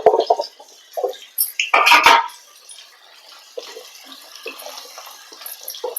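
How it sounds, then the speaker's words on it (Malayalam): Pieces of moringa drumstick are dropped a few at a time into hot oil for an Andhra-style drumstick pickle, setting off short spattering bursts, one loud hissing flare, then a quieter crackling sizzle. "ചൂടായ എണ്ണയ്ക്കകത്തോട്ട് നമുക്ക് കുറേശ്ശെ മുരിങ്ങയ്ക്ക ഇട്ട് കൊടുക്കാം."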